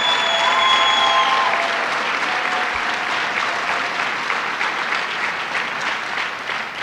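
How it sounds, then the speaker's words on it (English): An audience at a New York Stands with Puerto Rico breakfast applauds, a dense, sustained wash of clapping that fades slightly toward the end. "Let's give them all a round of applause."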